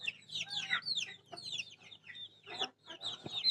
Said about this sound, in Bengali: ওগুলো হলো আমাদের মুরগির বাচ্চা